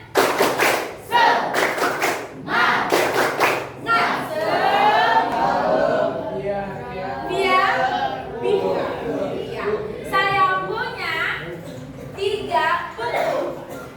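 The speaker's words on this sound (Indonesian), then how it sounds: "tepuk tangan untuk sama mana untuk kelompok 1" Quick bursts of clapping from a class group open the recording, giving way to chatter and talking voices, with a few thumps throughout.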